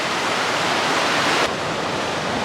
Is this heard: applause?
no